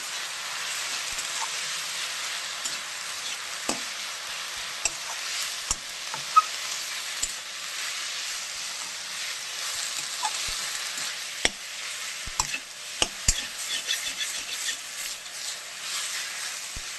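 Jute leaves stirred in a frying pan over a steady, close hiss of frying, with occasional sharp taps and scrapes of the utensil against the pan, and no voices.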